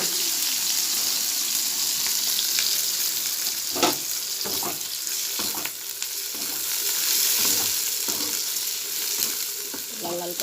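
Onion, green chili and ginger fry loudly in a pan for egg curry, a dense continuous sizzle with occasional stirring scrapes and soft clinks, heard up close and without speech.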